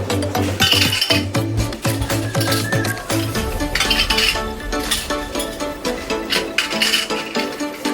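Metal canning lids clink and clatter against a metal pot of boiling water, a run of close, bright taps and rattles.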